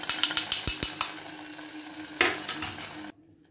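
Hot ghee with roasted cashews and raisins goes into milk payasam, giving a brief sizzle and bubbling hiss with several sharp metallic clinks from a pan or spoon before it stops abruptly.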